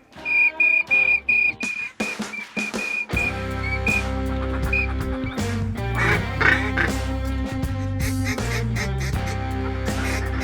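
Ducks quack loudly and repeatedly on a canvasback hunt over celery beds, first in short separated bursts, then in a dense continuous chorus mixed with whistling calls.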